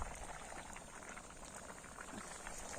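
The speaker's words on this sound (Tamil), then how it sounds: "நல்லா கொதிக்குது." Water at a hard, rolling boil in a village kitchen pot where river mussels are being cooked, a dense steady bubbling and hiss that holds at a constant level for the whole stretch.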